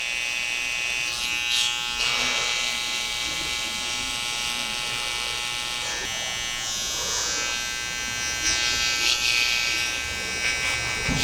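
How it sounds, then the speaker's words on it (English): A small electric hair trimmer cuts hair close to the ear, giving a steady, close buzzing drone that shifts slightly in pitch and texture as the blade moves through the hair. "I'm also using a smaller trimmer as well."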